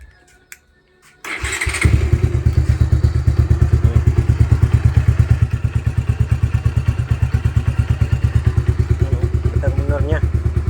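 A Bajaj Rouser 180 motorcycle fitted with an NS200 carburetor starts with a thump and settles into a loud, close, steady idle with even rapid firing pulses, running alone without talk.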